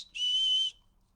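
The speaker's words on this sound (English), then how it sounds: "They're going to halt while I whistle." A single clear whistle from a person, one steady high tone held for about half a second, close and alone in near silence.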